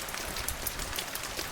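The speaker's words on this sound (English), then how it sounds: "Patter means a sound of drops of the soft rain overhead." Soft rain patters steadily on a surface overhead, a dense even spray of small drops with no voices.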